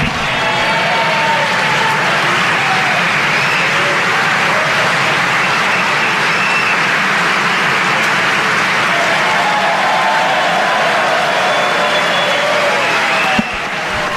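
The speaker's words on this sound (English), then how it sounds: "The applause gets louder" Sustained applause from a gallery audience greeting a 13-year-old boy, dense and steady throughout, with cheering mixed into the broad clapping wash.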